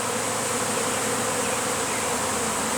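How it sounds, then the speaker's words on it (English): Dense, steady buzzing of a honey bee swarm pouring out of a hive box, a continuous loud insect drone with no pauses. "when bees swarm, they just are not on the attack"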